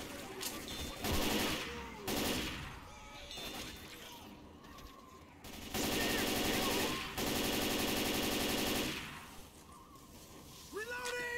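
Rapid automatic gunfire in the zombie shooter game Left 4 Dead, loud sustained bursts of fire separated by short pauses, with a person talking between and over the shooting.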